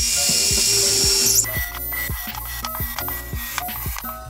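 A close, loud whine from an electric drill bores into a metal focusing grid for a solar concentrator, then stops. A run of rhythmic mechanical ticks and clanks follows.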